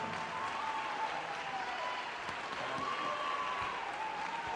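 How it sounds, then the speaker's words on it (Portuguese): Church audience applauding, a steady wash of many hands clapping heard faintly from a distance, with a sustained tone drifting above it. "então vamos aplaudir ao Senhor"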